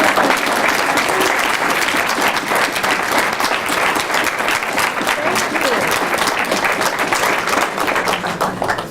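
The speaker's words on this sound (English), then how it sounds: "I think it's time for applause" Audience applause at the close of a special guest lecture at Adams State College: a dense, sustained wash of many hands clapping, loud and even from start to finish.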